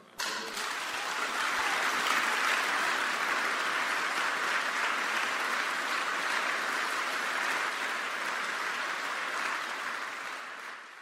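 An audience applauds Ralph Nader at a Project Censored event. The dense clapping swells in quickly, holds loud and steady for several seconds, then starts to thin toward the end.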